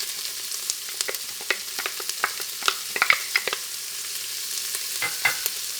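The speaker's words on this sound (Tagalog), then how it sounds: "Tutuloy lang natin ang pagluto dito hanggang sa lumabot na yung sibuyas" Onion and crushed garlic sauté in an Instant Pot multi-cooker with a steady bright sizzle, dotted with quick pops and light stirring clicks at close range.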